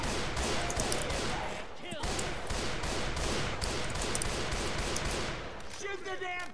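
Sustained bursts of rapid gunfire hammer away almost without a break, loud and close, as survivors unload on a Tank in the zombie shooter Left 4 Dead 2, with a few sharp impacts in the mix.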